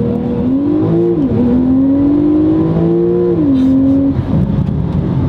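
Porsche 911 Turbo S (991) launching hard from a standstill, a loud, close engine roar whose pitch rises in steady climbs, dips briefly at each gear change, then eases off after about four seconds.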